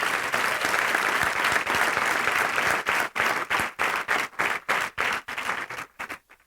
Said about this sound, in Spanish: Sí, dale un aplauso al Rey.